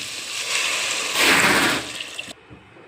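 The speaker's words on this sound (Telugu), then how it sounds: "ఇప్పుడు వాటర్ పోసేసుకుందాం." Water poured into a pot of tomato pepper rasam with onion, green chilli and okra: a steady splashing pour that swells briefly, then stops abruptly, leaving a quiet tail.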